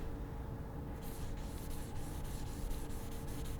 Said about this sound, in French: Une fois qu'on a redressé le PVC, il faut un petit peu de ponçage, que ça soit bien lisse comme c'était à l'origine.